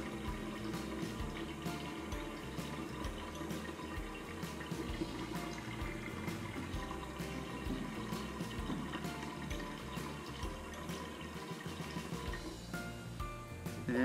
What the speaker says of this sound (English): once I pull that up, the pump will activate, and it's going to fill until it reaches the regular water level sensor here